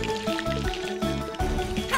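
Water pours into a cup in short gurgling bursts, the pitch shifting as it fills, close and clear.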